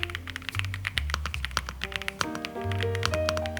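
Typing on a Yunzii AL98 gasket-mounted mechanical keyboard with a flex-cut PCB, giving a steady run of soft, close keystroke clacks over a low background hum.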